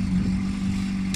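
A car engine idles steadily after being started with the key, a continuous low hum with a steady tone, close and alone, with a brief faint hiss near the end.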